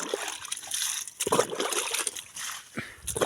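Water tipped by hand from a dipper onto eggplant plants in a garden, giving repeated splashy sloshing bursts at irregular intervals, close by.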